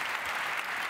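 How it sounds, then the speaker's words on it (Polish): Audience at a Polish business council awards gala clapping steadily, a dense, even wash of applause from a full room. "Proszę bić sobie brawo, nie krępować się."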